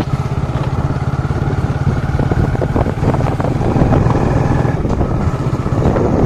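A Hero Super Splendor BS4 motorcycle, five years old, rides along with a steady, loud engine drone and a constant pulsing exhaust beat, close and unbroken throughout with no talk.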